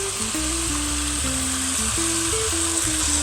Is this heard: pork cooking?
yes